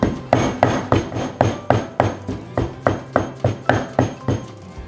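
Rapid pounding with a new stone mortar and pestle (ulekan), crushing ingredients in steady rhythmic thuds, about three strikes a second, close and loud with no talking.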